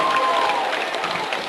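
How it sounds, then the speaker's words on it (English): A crowd at a high school volleyball match between Flagler and Idalia applauds steadily, dense continuous clapping filling the gym. "She just asked for a huge round of applause for the girls from Flagler and Idalia for their effort"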